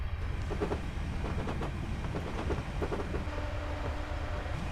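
Simulated train on the Fife Circle Line from Edinburgh to Aberdour in Train Simulator 2021, a steady low rumble of running wheels and motor with faint rhythmic clicks and a rising tonal whine near the end.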